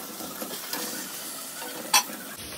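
Potatoes fry in a pan with a low continuous sizzle while being stirred, with a brief sharp scrape or clink of a utensil near the end and no talking.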